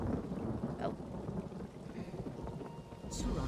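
Thunder rumbles low and continuous amid falling rain in The Elder Scrolls Online, a dense, moderately quiet storm bed with a brief brighter hiss near the end.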